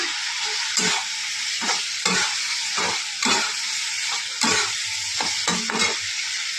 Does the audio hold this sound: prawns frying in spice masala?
yes